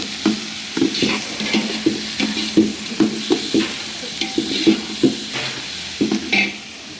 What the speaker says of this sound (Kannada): ಶುಂಠಿ ಬೆಳ್ಳುಳ್ಳಿ ಪೇಸ್ಟ್ ಹಾಕ್ತಾ ಇದ್ದಾರೆ ಫ್ರೆಂಡ್ಸ್. 2 ಸ್ಪೂನ್ ಶುಂಠಿ ಬೆಳ್ಳುಳ್ಳಿ ಪೇಸ್ಟು.